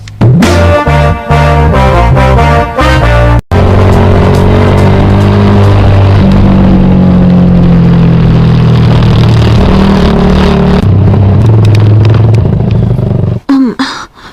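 A motorcycle engine revs loudly and close, with pulsing throttle bursts at first, then a sustained droning engine note that rises and falls before cutting out near the end.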